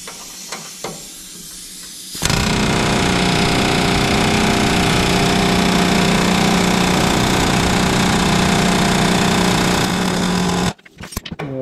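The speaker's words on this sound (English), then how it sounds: "we'll hit it another time with the air hammer" An air hammer works on the seized, rusty steering of a John Deere 175 lawn mower, a loud, continuous rattling roar running for about eight seconds after a few faint knocks.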